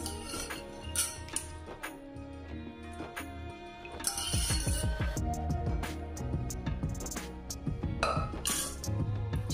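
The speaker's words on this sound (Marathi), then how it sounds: "मी इथे एका भांड्यावर चाळणी ठेवली आहे। त्यात आता आपण शेंगा काढून घेऊ।" Boiled pigeon pea pods are scooped from a pot into a colander set over another pot, giving repeated close metallic clinks and clatters of utensils against the vessels throughout, over a steady background hum.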